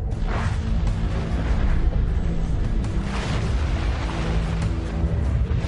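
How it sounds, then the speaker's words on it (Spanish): A deep rumbling boom effect standing in for huge explosions on the Sun in a space documentary, with heavy low roar and rolling surges, loud and continuous with no voices. "Miles de explosiones descomunales sacuden nuestro Sol cada año."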